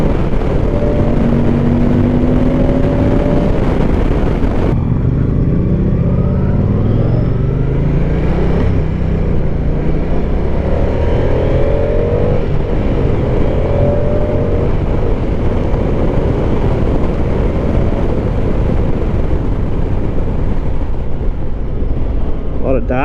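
A 2024 Moto Guzzi Stelvio motorcycle being ridden, its engine droning steadily with rising and falling revs under heavy wind rush, loud and continuous, while riders talk over it.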